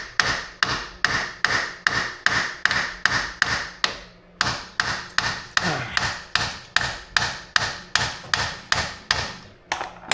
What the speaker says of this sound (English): I'm gonna have to keep on punching this hole in here until I get this damn thing off.